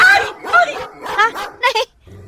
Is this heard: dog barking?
yes